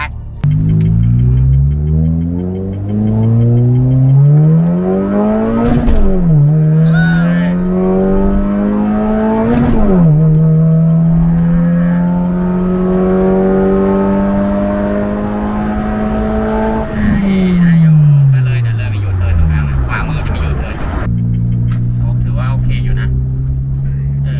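A remapped Honda Jazz GK hatchback drives on a concrete road, its engine rising steadily through the gears, each upshift dropping the pitch before the next climb, loud and close, with someone talking over it.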